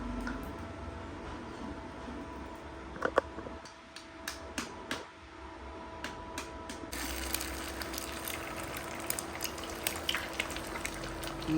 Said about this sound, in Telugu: ఆయిల్ అయితే హీట్ ఎక్కింది, ఎగ్స్ పగలు కొట్టి వేద్దాం అందులో